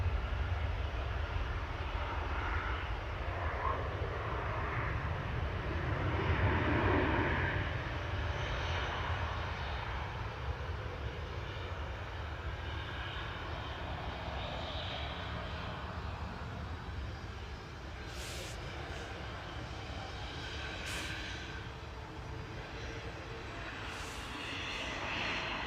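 A Ryanair airliner departs Manchester Airport bound for Milan, its engine roar a broad, steady rumble at moderate distance that swells slightly early on and then holds, with no talk over it.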